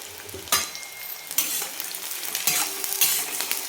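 Onion crackles and hisses loudly in hot oil over high gas flame, with bursts of sizzling as it is stirred and scraped around the pan.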